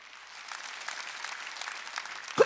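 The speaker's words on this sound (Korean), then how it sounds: "박수치라." A church congregation claps during a Sunday worship service, a dense, sustained patter of applause that builds steadily, with a louder thump near the end.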